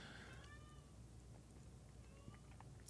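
A house cat meows twice, faint and somewhat distant, with a quiet gap between the calls and a low background hum.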